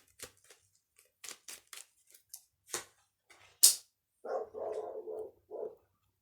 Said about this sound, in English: Sorry about all the dogs.